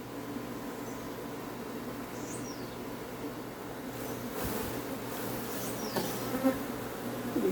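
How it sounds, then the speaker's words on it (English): Africanized honey bees shaken off a hive frame fill the air with a steady, dense buzzing hum at moderate level, a few individual bees passing close, no talk. "it has some bees here on this frame. So I'll just shake them out"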